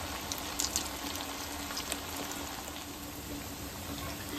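Crispy snacks deep-fry in a pan of hot oil. A constant, low-level bubbling sizzle continues throughout, with a few brief crackles and no voices.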